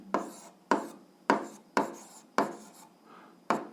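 A pen writing on paper, producing six quick scratchy strokes at an even rhythm, each a sharp attack that fades, close up with no talking.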